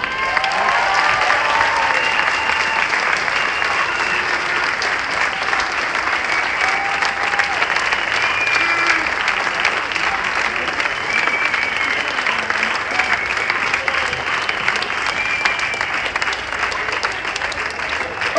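Sustained applause from a large outdoor protest crowd against the mandatory green pass, a dense, steady roar of clapping lasting throughout with no pauses.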